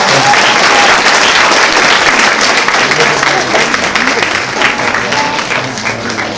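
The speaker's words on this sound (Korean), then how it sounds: "여러분 큰 박수 부탁드리도록 하겠습니다" Wedding guests at a convention hall wedding ceremony applauding loudly and continuously, a dense wash of many hands clapping close by with crowd murmur underneath.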